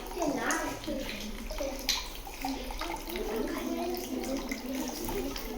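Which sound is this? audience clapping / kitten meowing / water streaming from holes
water streaming from holes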